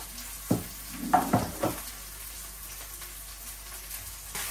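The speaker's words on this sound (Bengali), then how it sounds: "এই যে মাছটি ভেজে নিচ্ছি সুন্দর করে আজকের মশলা।" Fish frying in hot oil with chopped onion, a low steady sizzle broken by a few short stirring scrapes and clinks early on, then settling into quiet, even frying.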